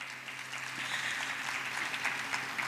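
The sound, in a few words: audience applause at school concert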